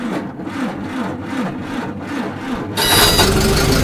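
A choked small engine on a cold start, cranked over with the throttle wide open: a steady rhythmic churning of several cranking strokes, then a louder, fuller roar as it catches near the end.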